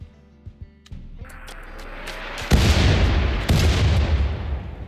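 Mortar shells landing in the colony game RimWorld, a run of loud booming impacts with rumbling tails, building from a few distant thuds to heavy, close blasts in quick succession.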